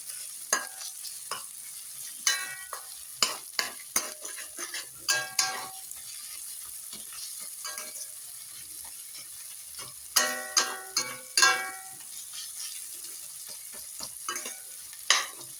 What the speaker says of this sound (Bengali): আমি এখন মিনিট খানেক এগুলোকে একটু ভালো করে